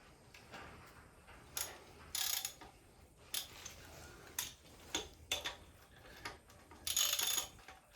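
Ratchet wrench removing 9/16-inch bolt heads, with repeated bursts of close, crisp clicking in uneven runs separated by short pauses and no talk over it.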